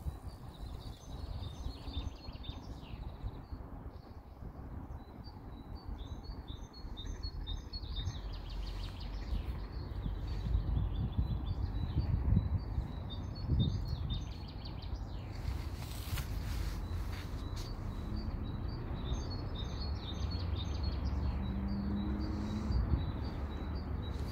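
Birds sing at dawn outside an open balcony, with repeated high chirps and trills recurring through the stretch over a steady low rumble of distant traffic.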